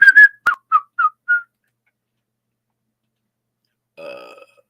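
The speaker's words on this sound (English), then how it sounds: "As I whistle while I work." A person whistling a short tune of several clipped notes close by, followed after a pause by a faint, brief hum.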